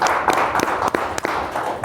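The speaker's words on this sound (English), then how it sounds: "So clap it up for him." A studio audience claps in a series of sharp, uneven hand claps over a short stretch, moderately close and without talk.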